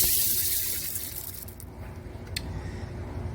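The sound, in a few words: hot water filling container in sink for pinto beans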